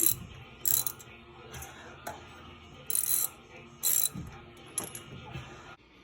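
A ratchet clicks in short bursts while spark plugs are snugged up by hand on a 1963 Ford Fairlane during a tune-up, close and fairly quiet, with faint mechanical handling noises between the clicks.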